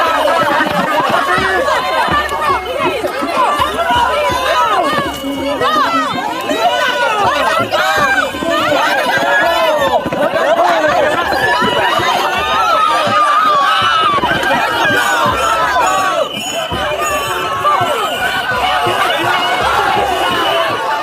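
A dense, agitated crowd outside an ICE facility during police arrests fills the scene with continuous loud chatter, overlapping shouts and a churning babble of many voices, with no pause.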